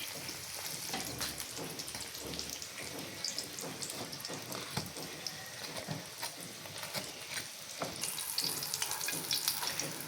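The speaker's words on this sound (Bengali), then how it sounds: "এবার আম্মু পরোটাকে উল্টে সেটার মধ্যে কিছু পরিমাণে তেল দিয়ে দিচ্ছে" Mughlai paratha frying in oil in a kadai, a steady broadband sizzle with stirring and scraping running throughout at moderate level, no voices.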